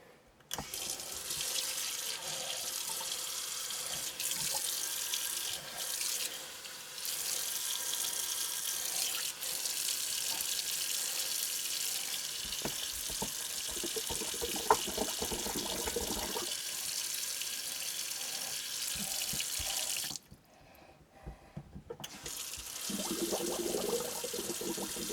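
Water running steadily from an RV sink tap, a constant close splashing rush that briefly stops and then starts again near the end.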